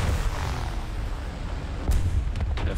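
A deep, heavy blast rumble from a 500 kg bomb in the video game War Thunder, a sustained low boom with a sharper crack near the end, loud and close.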